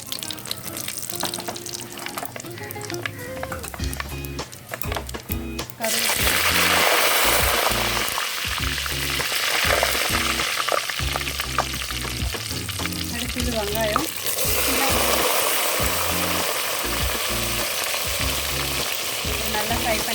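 Fenugreek, fennel seeds and dried chillies fry in hot oil while making Chettinad vatha kulambu, giving a loud, steady sizzle with stirring scrapes and clinks throughout and no voices.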